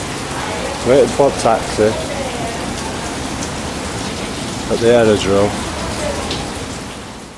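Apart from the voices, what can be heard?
heavy rain falling at an aerodrome in Brazil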